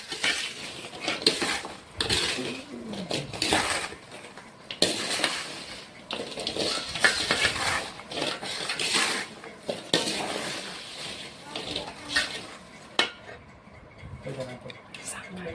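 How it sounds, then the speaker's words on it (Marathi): Spoon stirring a Maharashtrian achar pickle mixture, with repeated scraping and clinking against the container in irregular bursts, mid-distance and moderately quiet, while a person talks over it. "सगळं घेऊन ते सगळं हलवायचं ह्याने आणि मग डब्यात भरायचा"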